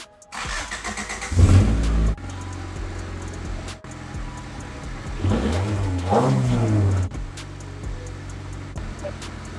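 A Honda CRX engine cranks and starts, then revs up and settles into a steady running idle, fairly close and loud with no talking.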